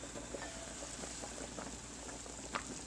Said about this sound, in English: there you can see the tongue is boiling in there